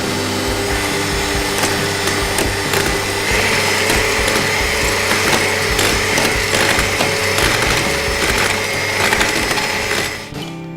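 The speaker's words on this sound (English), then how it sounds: "we're going to use an electric food mixer" An electric food mixer blends egg yolks with lemon juice and mustard, giving a continuous close whirring hum with rattling clicks, then cutting off at the end.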